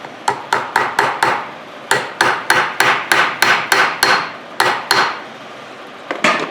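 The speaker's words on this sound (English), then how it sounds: "Start working with the hammer." Metal hammer blows tap a universal joint cap into the front driveshaft of a Dodge Ram Cummins, about twenty sharp ringing strikes in quick uneven runs, close and loud, with short pauses between bursts and no talking.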